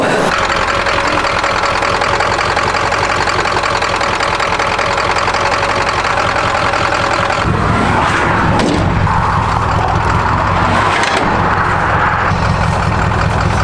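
4x4 Ford Econoline van conversion engine labouring up a mountain pass with a suspected fuel issue, a loud, steady rough drone with knocking, close and continuous, shifting tone partway through.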